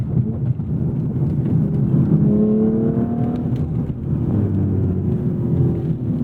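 A 2022 Audi B9 RS5 Sportback accelerates hard, heard from inside the cabin as a loud engine rising in pitch through quick gear shifts, with a steady road and wind roar underneath.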